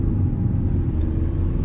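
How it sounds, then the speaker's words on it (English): A Maruti Suzuki Vitara Brezza diesel car drives along at speed, its engine and road rumble a steady low drone heard from inside the cabin. "So driving the Vitara Brezza diesel on the highway."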